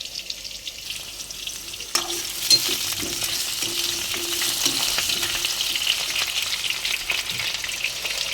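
Potatoes frying in a pan for a meat curry, with a steady close sizzle and a few clinks and scrapes of stirring, no voices.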